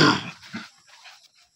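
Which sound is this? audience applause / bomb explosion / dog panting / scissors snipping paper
dog panting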